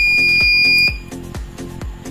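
A small buzzer wired to an Arduino ultrasonic sensor circuit gives a loud, steady high tone that cuts off within a second, with rhythmic tapping clicks continuing under and after it.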